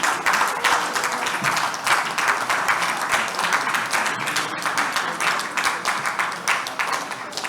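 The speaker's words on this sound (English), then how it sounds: "Please clap for them." Conference audience applauding the institute staff, a sustained burst of crowded clapping, loud and close, with individual sharp claps standing out in an unbroken rhythm and no talking on top.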